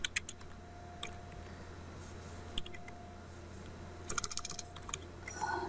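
Commands typed on a computer keyboard while configuring a Cisco ASA 5510 firewall: quiet, close key clicks in short bursts over a steady electronic hum, with a denser flurry of keystrokes near the end.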